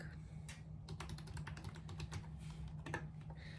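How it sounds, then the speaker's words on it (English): Rapid keystrokes on a computer keyboard as a password is typed, a quick irregular run of clicks with short pauses over a steady low background hum, close by and moderately loud, with no speech. "I do have a very cute keyboard"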